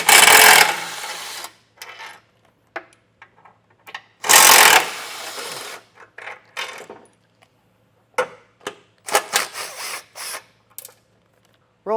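A power tool removes 16mm bolts from the bumper of a 2024 Jeep in two loud whirring bursts, separated by metallic clinks and small taps, with quiet gaps between them.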